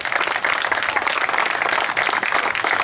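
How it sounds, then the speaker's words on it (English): A community crowd at an anti-violence unity gathering in Chad Brown gives a round of applause for visiting politicians, a dense, even wash of many hands clapping at full strength for the whole stretch. "let's give them a round of applause"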